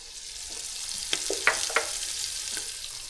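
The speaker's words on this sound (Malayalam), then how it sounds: "കല്ലുമ്മക്കായ ഇവിടെ വറുത്തെടുക്കുന്നുണ്ട്" Green mussels fry in hot oil with a continuous close hiss, broken by a few sharp crackles and pops.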